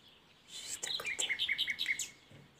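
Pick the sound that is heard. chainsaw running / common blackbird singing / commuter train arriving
common blackbird singing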